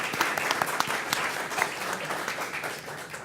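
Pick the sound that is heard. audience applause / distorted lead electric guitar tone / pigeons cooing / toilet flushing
audience applause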